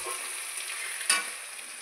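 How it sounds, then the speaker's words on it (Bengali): Fish oil fries in a pan with chili and garlic, giving a steady, close sizzle with a short scrape of stirring partway through. "মাছের তেলটা ভাজছি"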